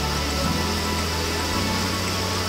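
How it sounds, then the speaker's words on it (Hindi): Heavy rain pours down steadily outdoors, a dense, continuous broadband hiss that stays loud and even throughout, with no voices over it. "तो फाइनली कितनी तेज की बारिश आ रही है"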